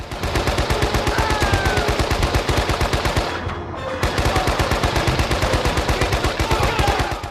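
A machine gun turret firing in the World War II shooter Men of Valor: rapid, evenly spaced loud shots in a long continuous burst, a brief break partway through, then sustained firing again.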